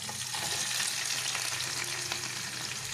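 Garlic frying in olive oil for a clam pasta, a steady broadband sizzle that holds evenly and close throughout, with faint stirring scrapes and no voices.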